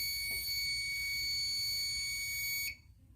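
A fire alarm panel sounds a steady, loud electronic alarm tone that holds for nearly three seconds before cutting off abruptly, leaving only faint room noise.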